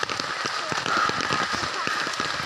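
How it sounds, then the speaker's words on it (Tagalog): Rain pattering steadily on surfaces with scattered drops, fairly quiet and close, without talk. "Umuulan."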